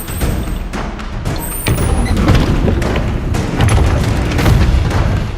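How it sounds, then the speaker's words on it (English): Fireworks burst at a shrine in the PS3 game Puppeteer, a loud, dense barrage of booming thuds and crackling explosions rolling continuously for several seconds. "Oh, I love the sound of fireworks, don't you?"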